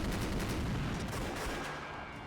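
Dense sustained gunfire from the visual novel Rose Guns Days, a loud continuous barrage of overlapping shots blending into a roaring wash that tapers slightly toward the end, with no voices.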